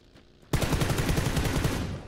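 After a brief quiet moment, a sudden burst of rapid automatic gunfire erupts close by, a dense, evenly paced rattle of shots that runs for more than a second before tapering off.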